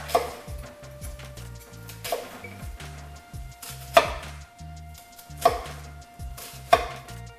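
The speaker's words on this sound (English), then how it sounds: "So I'm gonna cut here and make these about a quarter of an inch apart." Knife dicing an onion on a cutting board in a home kitchen, with five or six sharp, evenly spaced chops knocking against the board, close and crisp, with a faint steady hum in the background.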